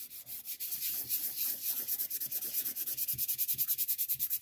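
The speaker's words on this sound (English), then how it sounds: "I'm gonna take my nail file and I'm just gonna sand" A nail file rasps back and forth across an acetate sheet to frost it, a fast run of short scratchy strokes that grows more even and regular, close up with no talking.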